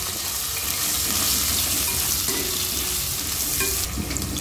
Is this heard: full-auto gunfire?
no